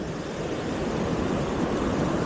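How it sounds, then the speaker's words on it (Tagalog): Big storm waves breaking on a beach during a typhoon, a continuous heavy roar of surf mixed with wind noise, steady and loud with no voices. "Laki alon yan, di natin kaya yan"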